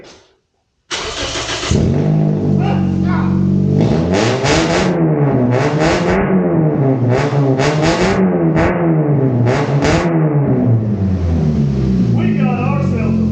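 A race car fitted with a Race-XB exhaust fires up with a loud bark and then revs hard in repeated rising and falling surges close by, with voices talking over the engine.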